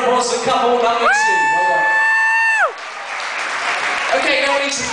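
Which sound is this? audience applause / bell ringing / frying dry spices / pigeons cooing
audience applause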